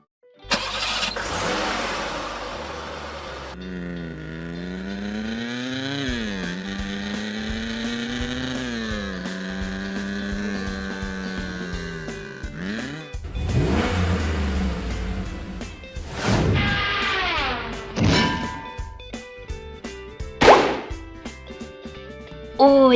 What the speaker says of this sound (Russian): Сейчас мы с помощью машинок Hot Wheels будем их пробивать.